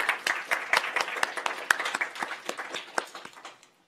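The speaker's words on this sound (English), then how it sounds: "So we'll just give you a round of applause." A small audience at an academic workshop gives a round of applause, distinct individual claps at first that thin out and fade to silence by the end.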